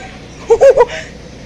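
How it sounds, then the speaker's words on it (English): Chickens in a poultry building at a fairground, a short loud cluster of three clucking calls close by, with quiet background noise around them. "I can hear the chickens. So, those are the chickens."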